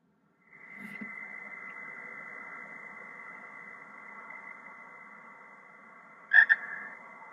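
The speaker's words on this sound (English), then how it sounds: "Creepy frog." A creepy frog-croak sample sits in a hip-hop track, a steady droning croak layered over a low beat, with a brief louder croaking burst near the end.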